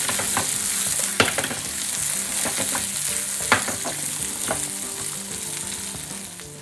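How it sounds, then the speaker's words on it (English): Salted vegetables for a frittata sizzle steadily in a frying pan, with two sharp clattering tosses standing out above the constant frying hiss; no one speaks. "we're just going to toss those over, just getting the cooking process going"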